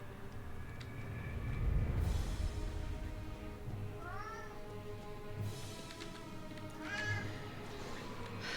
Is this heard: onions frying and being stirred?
no